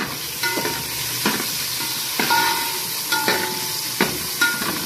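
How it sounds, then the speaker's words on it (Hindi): Tomatoes and onions fry in hot oil for a chicken handi gravy, giving a steady close sizzle broken every second or so by sharp scrapes of a stirring spoon, with no talking. "इसको मैं अच्छे से फ्राई करूँगी"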